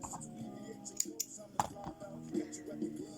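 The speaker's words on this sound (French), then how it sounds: "Moi je vais couper le fil parce que je vais rechanger de couleur" A few quick snips of scissors cutting crochet yarn, brief and close, with small handling noises between the cuts.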